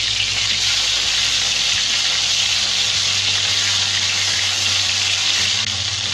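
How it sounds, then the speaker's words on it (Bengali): Bhola fish pieces frying in mustard oil after being flipped, a loud even hissing sizzle that holds steady throughout with a faint low hum underneath. "1 পিস মাছ ভাজা হয়েছে, আমি মাছগুলো উল্টিয়ে দিচ্ছি।"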